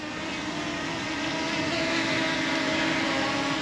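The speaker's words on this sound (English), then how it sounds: "So I'm gonna have it auto takeoff behind me." A DJI drone auto-launches and hovers in place outdoors, its propellers making a loud, steady, broadband whirring buzz that holds without a break, close by.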